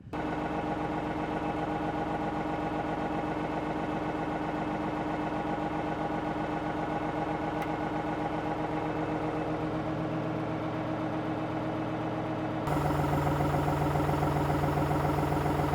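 A backhoe engine runs steadily at a constant drone while its boom lifts a dump truck's transmission, the pitch rising and growing louder near the end as it works harder.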